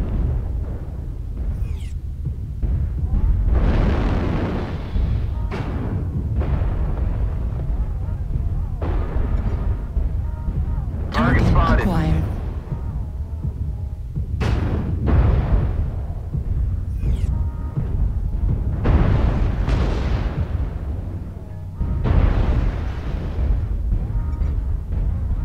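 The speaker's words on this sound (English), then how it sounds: "Shots fired." A mech battle video game fires off heavy gunfire and explosions in repeated loud, booming bursts separated by short gaps, spread across the whole stretch.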